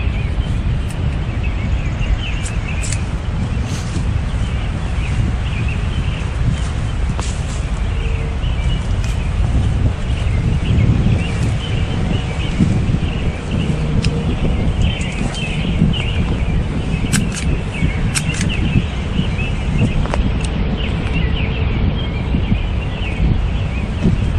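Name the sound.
wind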